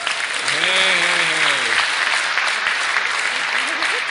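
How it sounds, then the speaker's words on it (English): Audience applause fills the room at a retirement roast, a dense, steady wash of clapping that holds loud throughout, with a brief voice cheering or calling out early on. "how about a round of applause for all these brave roasters tonight?"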